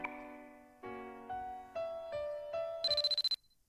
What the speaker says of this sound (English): Suddenly the cell phone rang.